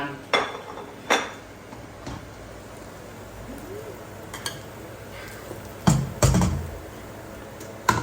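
Food is served onto a plate with several sharp clinks of a utensil against dishware, spaced irregularly over a quiet room, with a pair of louder clatters near the end.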